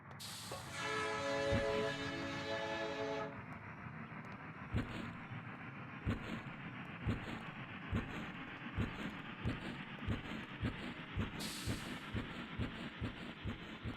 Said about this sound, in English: Hurry up, the train's about to leave.